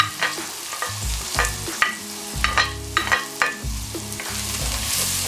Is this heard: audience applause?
no